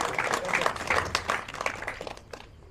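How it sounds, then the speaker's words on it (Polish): Applause from a crowd at a fishing competition ceremony in Poland is moderately loud at first, then thins into scattered claps and fades out. "Wielkie brawa, panowie i panie."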